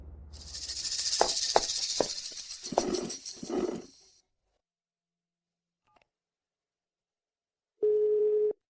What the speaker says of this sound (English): The number you have dialed is currently busy.